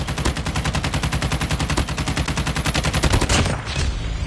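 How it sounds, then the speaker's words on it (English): Rapid automatic gunfire from Call of Duty Mobile, a fast steady stream of close, loud shots lasting several seconds before cutting off. "Who's shooting me?"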